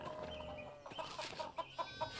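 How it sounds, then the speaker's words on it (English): Chickens on a farm in the medieval game Pentiment cluck in short, separate bursts over a steady ambient bed, moderately close and fairly quiet. "Chickens, lots of animals."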